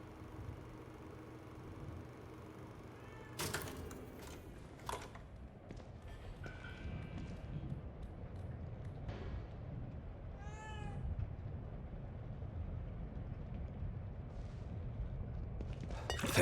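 A cat meows in The Evil Within 2: a single drawn-out, wavering meow rises over the game's low rumbling ambience and scattered thuds, moderately close and not loud.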